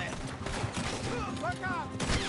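Gunfire during a Red Dead Redemption 2 shootout, with shots mixed into a busy scene and overlapping character voices.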